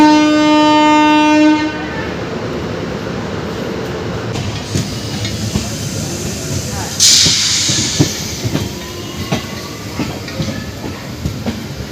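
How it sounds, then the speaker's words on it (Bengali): A Tebhaga Express train pulls out of Kolkata station, opening with a loud, sustained horn blast that gives way to a steady rolling rumble with faint wheel clatter and hiss as it gathers pace. "আমাদের ট্রেন ছেড়ে দিল কলকাতা"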